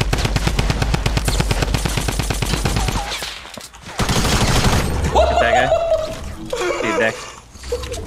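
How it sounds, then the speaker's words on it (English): Automatic weapon fire in Fortnite Battle Royale rattles in a fast, steady burst of loud close shots, then breaks off into scattered bangs and splashy game effects, with players talking underneath. "Automatic weapons."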